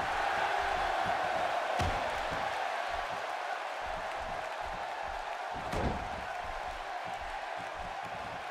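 Simulated arena crowd noise from the WWE 2K16 wrestling game, a steady loud wash of cheering and applause throughout, with a couple of sharp slam-like hits standing out, no talk over it.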